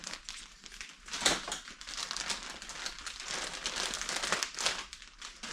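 Plastic packaging around a new Arai helmet neck roll being cut open, a steady close crinkle and rustle of thin plastic with a few sharper crackles, fairly quiet and heard alone.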